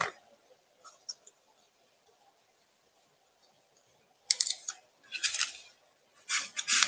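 Scissors snip a small piece of plaid fabric close by in a quiet room, a few short crisp cuts early on and then bursts of rapid snipping near the end.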